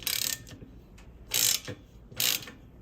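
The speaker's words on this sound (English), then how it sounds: "Now we should be able to tighten up both sides." A hand ratchet clicks in three quick bursts, tightening steering column bolts on a 1974 Ford F350 four-speed, close up in a quiet workshop with brief pauses between strokes.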